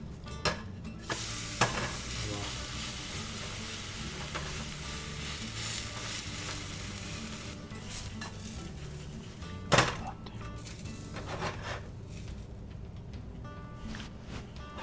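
Moong cheela, a high-protein lentil crepe, sizzles steadily as it fries in a hot pan. A continuous close crackle runs throughout, with a few sharp clinks and knocks of a utensil against the pan.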